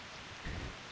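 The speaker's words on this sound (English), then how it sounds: "Go ahead and touch the raindrops." A brief wash of rain hisses evenly, with a low soft rumble swelling for a moment midway.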